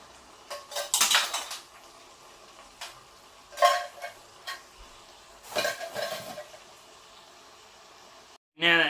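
Tinned tomatoes being stirred into a chicken curry in a pan, with several bursts of scraping and clinking of utensil against metal separated by quiet gaps, ending in a louder knock.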